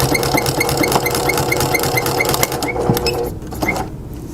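Sewing machine stitching a coupon wallet, a fast, even rattling run of stitches close up that slows and stops near the end.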